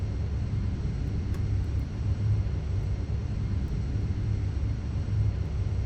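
VTOL aircraft flying in the Entropia Universe game, a steady low engine drone and rumble held at constant loudness, close and unbroken, without speech.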